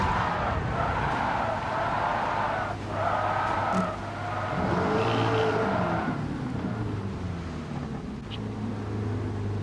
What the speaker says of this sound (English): Tapped the brakes a little too hard there, and it sent me for a spin.